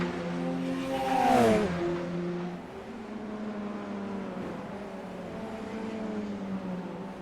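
Radical SR race cars racing at Oschersleben, a close engine whine sweeping up and down as a car passes, followed by a steady drone of engines from several cars.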